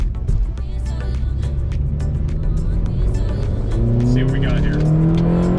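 A 9th-generation Honda Civic Si sedan engine accelerates while driving, with rising harmonic tones climbing steadily toward the end, a continuous loud drone under a person talking.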